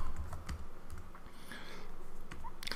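Keys on a computer keyboard click in an irregular, moderately close run, with a few louder key presses standing out from the softer taps.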